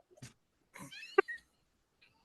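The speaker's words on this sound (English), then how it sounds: "We've got a talking cat." A cat meows in a few short, close calls, one rising and wavering, with quiet gaps between them and no talking.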